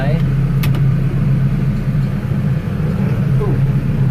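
A tractor engine runs steadily after a forward-reverse shift into creeper first high, a close, constant low drone holding even throughout.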